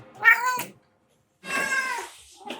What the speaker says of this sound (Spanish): me levanto con una alarma que es mi gato.